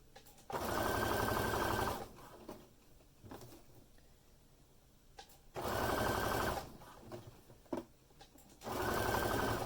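A sewing machine stitches clear elastic onto a pair of Luna briefs in three loud, close bursts of rapid needle hum, each about one to two seconds, separated by quieter handling of fabric and no talk.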